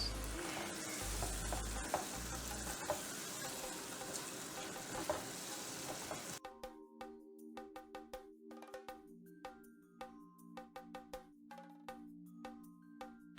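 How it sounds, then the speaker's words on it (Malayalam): Curry lemon pickle is stirred as it fries in a pan, giving a close, steady sizzle with scraping stir strokes for about six seconds. Bright plinking, cowbell-like music then takes over. "അപ്പൊ ഇതിങ്ങനെ നന്നായിട്ട് ഇളക്കി കൊടുക്കണം"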